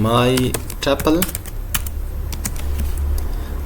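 Keys clatter steadily as Python code is typed on a computer keyboard, close and fairly loud, with someone talking over the first second or so.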